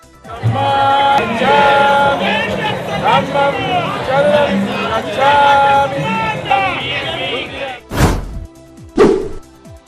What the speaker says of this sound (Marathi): सोलापुरातील आंबेडकर चौकात सकाळपासून भीमसैनिकांची मोठी गर्दी